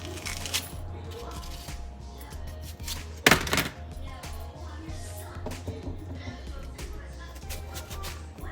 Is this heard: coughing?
no